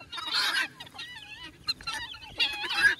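Several guinea fowl and chickens call in loud, honking bursts that come and go in bunches, with quieter chirps and cackles between them, close by.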